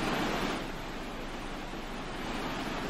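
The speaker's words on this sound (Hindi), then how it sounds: "ये अलकनंदा और धौली नदी का जलस्तर बढ़ चुका है" Swollen Alaknanda and Dhauli rivers rushing after pre-monsoon rain in the Uttarakhand hills, a steady, loud broadband roar of water that holds constant throughout with no pauses.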